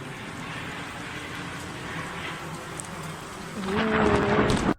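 Heavy rain and storm rumble from a thunderstorm in which lightning strikes a plane flying over Finland, a steady wash of rain that swells louder near the end with a brief tonal rise over it.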